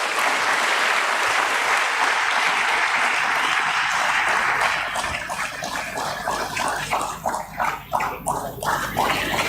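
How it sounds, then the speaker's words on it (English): A crowd applauds loudly and steadily at a stock exchange listing ceremony for Landmark Cars, the dense clapping thinning in the second half into scattered, individual claps. "Let's give them a big round of applause."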